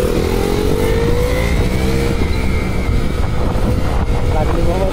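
A motorbike riding along a road at steady speed, its engine drone loud and continuous with a slowly shifting pitch and wind rush throughout.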